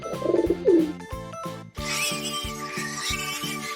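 A pigeon coos in a few soft, close, rhythmic calls, followed by steady farm ambience and gentle background tones.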